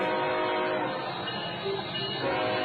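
Freight train led by locomotives 507 and 506 crawling past at slow speed, a steady loud rumble of engines and rolling cars with a sustained tonal drone throughout, no voices.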